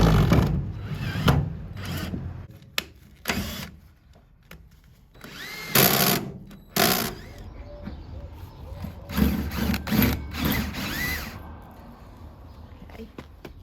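A cordless power drill boring through a van's metal panel to fit an underslung fresh water tank, with several loud bursts of whirring separated by pauses and handling clatter.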